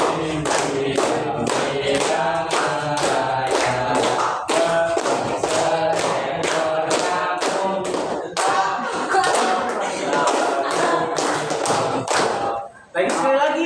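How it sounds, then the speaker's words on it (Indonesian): Classroom students clapping hands in a fast, loud, rhythmic pattern of sharp claps repeated throughout, with voices chanting along underneath. "kalian yang lain tepuk tangan ya"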